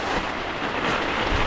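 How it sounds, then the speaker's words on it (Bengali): Heavy rain pours down outdoors near a fishing spot, giving a dense, loud, continuous roar of falling water with no breaks and no speech. "প্রচণ্ড বৃষ্টি শুরু হয়েছে"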